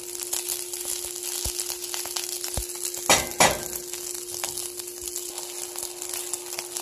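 Leftover fried rice sizzles in a hot pan with a steady crackling hiss, broken by a couple of sharp scraping stirs near the middle, with no voices.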